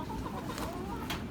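Hens roosting give soft, low clucks and murmurs, close by and fairly quiet, in a short steady stretch.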